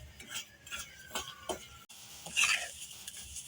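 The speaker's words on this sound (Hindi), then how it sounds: "अब मज़ीद इसको मैं गोल्डन होने तक इसको जो है अच्छे से भुनाई कर लेती हूँ" Semolina dry-roasting in a pan for suji halwa, with a spoon scraping and stirring in quick irregular strokes, each with a soft gritty rasp. The sound is close and moderately quiet, with no talk.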